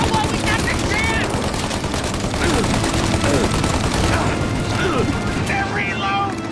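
Gunfire in the video game Mafia, rapid bursts of shots and mechanical clatter in a continuous loud firefight, with shouted voices mixed in.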